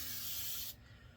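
A spray bottle mists water over a head before a shave. One close, steady hiss lasts under a second, then stops sharply, leaving quiet.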